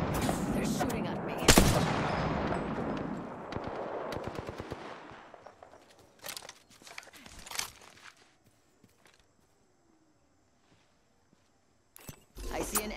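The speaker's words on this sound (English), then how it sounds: "Shooting! They're shooting at me." Enemy gunfire in the Apex Legends battle royale game: a dense burst of rapid shots in the opening seconds tapers into scattered cracks, with further sharp shots later and a voice talking over parts of it.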